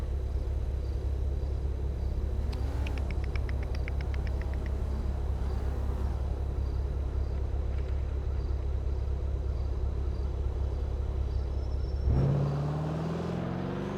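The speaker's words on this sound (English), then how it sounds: "That truck was hauling too." A hauling truck rumbles steadily past on the road, a continuous low engine drone that swells slightly near the end as it goes by.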